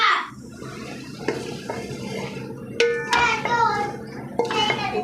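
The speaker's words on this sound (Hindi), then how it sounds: "आलू धो लेने अच्छे तरीके ना" Running tap water pours steadily while potatoes are rinsed at a kitchen sink, with brief clattering splashes and handling sounds breaking through close by.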